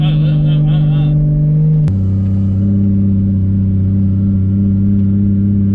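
Turbocharged Lexus IS300 on a quarter-mile drag strip, a loud steady engine drone that drops in pitch partway through as it shifts gears, with a brief high whine early on.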